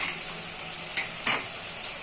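Salt, ginger paste, cumin paste, chilli powder and turmeric sizzle steadily in a pan for mushroom kosha, broken by two or three brief spoon scrapes nearby.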